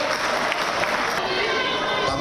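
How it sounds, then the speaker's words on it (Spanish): Steady applause from a crowd at the Miss Equatorial Guinea 2016 beauty pageant, dense and continuous at a moderate level for a couple of seconds. "Un aplauso para el señor Vincenzo."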